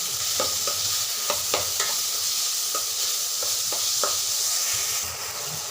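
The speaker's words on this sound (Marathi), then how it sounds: "आता आपण त्याच्यात घालूयात बारीक कट केलेला टोमॅटो. हेही आपल्याला चांगलं परतवून घ्यायचं." Finely chopped tomato and onion fry together in a hot pan for misal, a steady, close sizzle broken by scattered clicks and scrapes of stirring, with no talking.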